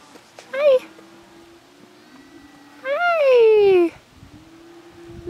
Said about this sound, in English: Look at this tiny little kitten.